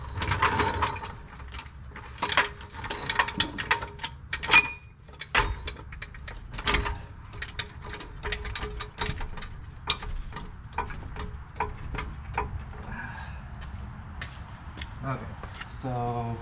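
A jack raising the axle of a Jeep LJ on 37-inch tires in a workshop, with steady ratcheting clicks running throughout and people talking over it.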